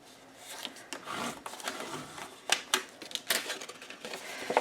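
Cardstock for a steampunk explosion box is creased, flipped and folded close up, giving soft rustles and sharp papery taps and scrapes at irregular intervals.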